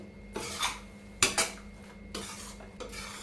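Coconut rice being mixed with saffron milk in a metal pot, a spoon scraping and clinking against the sides in a few irregular strokes, close and fairly quiet with no talk.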